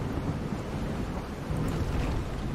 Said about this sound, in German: Und dann noch das Gewitter dazu